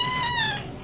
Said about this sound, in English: You could hear him purring through the glass.